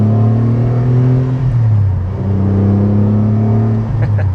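Car with a manual gearbox accelerating on an open road at speed, a loud close engine drone with rising tone, a brief dip as the gear changes, then the pitch climbing again in the next gear.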